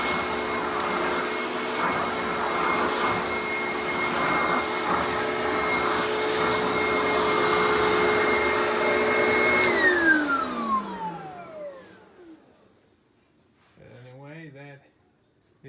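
A Garry Ultralight GL100 upright vacuum cleaner, an Oreck XL knockoff, runs with a loud steady whine and airflow roar nearby, then winds down with a falling pitch after switch-off; a person briefly speaks afterward.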